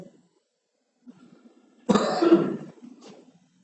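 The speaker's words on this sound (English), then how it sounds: "I've still got this little bit of cough" One harsh cough bursts out after a faint murmur of voice, close and loud for about a second before trailing off, with soft voice sounds on either side.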